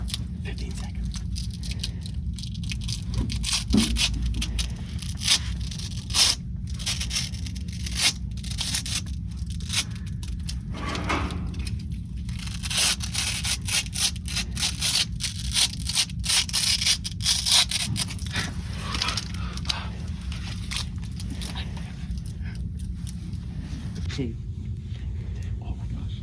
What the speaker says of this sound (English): You got to unroll the whole roll of duct tape in 15 seconds.